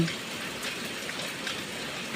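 Steady morning rain falls in an even, soft hiss with no breaks, moderately close and unaccompanied by voices.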